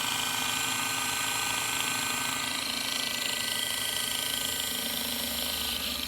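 Old sewing machine motor running during a restoration, a dense steady whirring hum with a rapid mechanical chatter, loud and unbroken throughout, with no talk.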